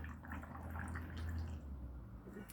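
Brine poured over red cabbage pickle in a jar, a faint soft trickle and splash of liquid filling the jar, quiet and steady for a couple of seconds.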